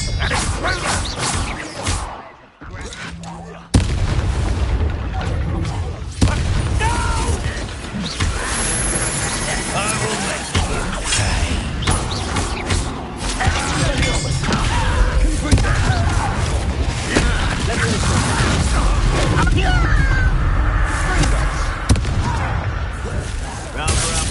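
Spell blasts and explosions in the video game Hogwarts Legacy, dense bursts and crackling impacts over a loud, continuous battle din, with a voice calling out spells now and then.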